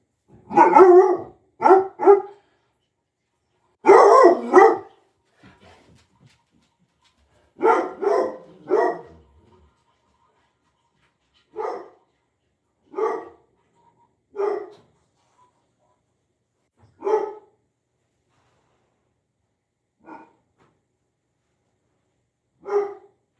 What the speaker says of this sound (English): Don't start barking.